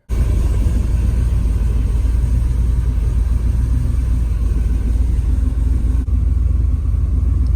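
A turbocharged LS V8 swapped into a BMW E36 idles steadily, a loud, close, continuous low rumble with an even, unchanging throb throughout.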